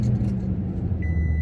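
Toyota Tundra pickup truck with a new grille, cranked right after the battery was disconnected and reconnected, giving a short, steady low engine rumble close by with a faint high tone near the end.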